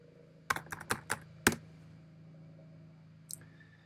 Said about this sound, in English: You can just add text in by typing.